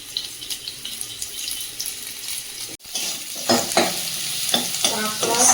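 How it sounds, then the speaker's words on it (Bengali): Crab and chopped onion fry in oil with a bright, steady sizzle, broken by a sharp clack midway, then several scraping stirs against the pan, heard close with no voices. "কাঁকড়া পেঁয়াজ ভালোভাবে ভেজে নিয়েছি।"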